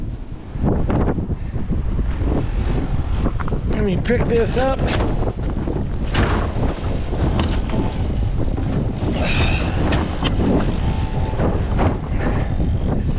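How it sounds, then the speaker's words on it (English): Strong wind buffets the microphone in a continuous roar with gusty surges, while a person speaks briefly over it. "35-mile-an-hour sustained winds with gusts into the 50s."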